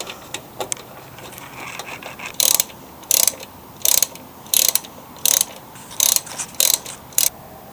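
Ratcheting a bolt tight on the carburetor of a Toro Super Recycler mower: a run of crisp, evenly spaced clicking bursts, close and clear, with faint shuffling before them.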